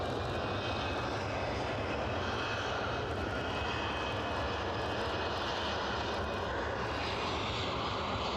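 Airplane engine roaring steadily at Edinburgh Airport, a loud continuous jet-like drone with broadband rush holding throughout, no speech.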